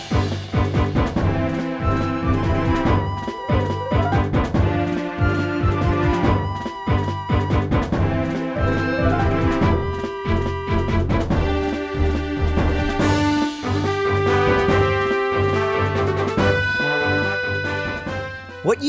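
Upbeat orchestral field music from Zelda: Twilight Princess, the E3 version, plays steadily with sustained melodic lines over a rhythmic accompaniment, no voices.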